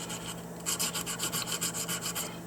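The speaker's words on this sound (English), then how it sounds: "But you just keep sanding away." A small Dendraster gibbsii echinoid fossil from Southern California is rubbed against a barrel sander in quick, even back-and-forth strokes, close and steady over a faint background hum.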